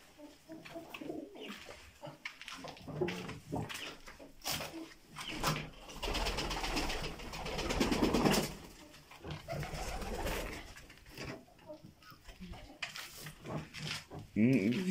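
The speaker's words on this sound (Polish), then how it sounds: "Widzę gołębia jednego." Pigeons coo repeatedly near a house, soft and fairly close, with people talking over and between the calls.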